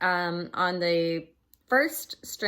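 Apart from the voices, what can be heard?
No distinct noise like a dog, phone or traffic.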